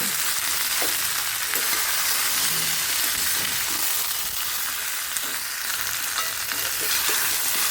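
Pumpkin and potatoes stir-fried in a pan with turmeric, giving a loud continuous sizzle with scraping and stirring strokes mixed in, close and steady with no talk.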